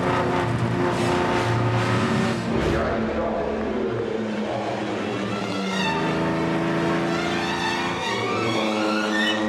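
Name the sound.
vintage Talbot, Lagonda and Bugatti race cars racing at Le Mans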